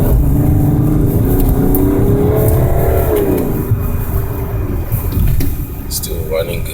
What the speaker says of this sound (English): Just showing you how my car runs.